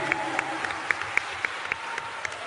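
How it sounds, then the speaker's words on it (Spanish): Audience applause greeting guests at a talk, a steady wash of clapping with distinct sharper individual claps popping out close by, lasting throughout without voices. "recibámoslos de pie con un aplauso a nuestros héroes"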